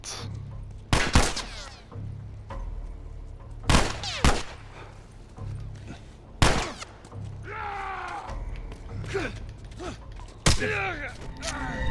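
Gunfire from Tess in The Last of Us Remastered on Grounded difficulty: several sharp shots spaced a few seconds apart over mechanical game noise, with a low ambient hum between them.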